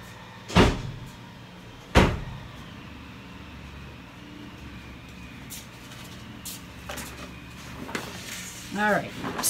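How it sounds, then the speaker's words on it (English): A door is shut indoors at home with two sharp, loud thuds about a second and a half apart, then steady background rumble and clatter from construction work nearby. "I'm just going to shut the door."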